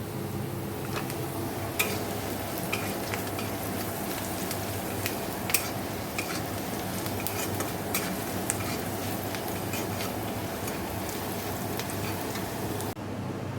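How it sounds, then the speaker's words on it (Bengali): Onions frying in oil with panch phoron and dried red chillies, a low continuous crackling sizzle with scattered sharp pops and spits, fairly faint and steady, no one talking. "এদিকে পাঁচ ফোড়ন শুকনো লঙ্কা ফোড়ন দিয়ে পেঁয়াজ ভাজা হচ্ছে"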